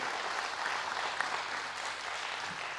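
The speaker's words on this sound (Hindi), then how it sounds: "प्लीज़ उनके लिए तालियां बजाई जाए" Audience applause during a talk show session on igniting minds for empowering Bharat, a continuous even clatter of many hands at moderate loudness, with no speech over it.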